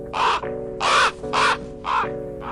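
Four loud, harsh caws from a crow, evenly spaced and close by, each a rasping burst with short gaps of quiet between them.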